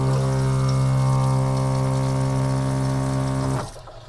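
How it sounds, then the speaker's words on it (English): Electric RV water pump under a sink cabinet in a 2005 Toyota Sienna camper, a loud steady tonal hum with water flowing, running evenly for about three and a half seconds before cutting off abruptly. "activate the water pump by pressing the switch on the side of the sink cabinet, and I should be able to dispense water now"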